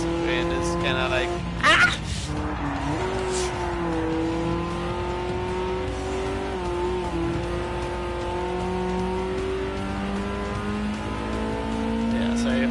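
Race cars in Gran Turismo 7 drone steadily with rising and falling engine pitch as gears shift. A brief clatter comes early, and a voice talks over the engine note throughout.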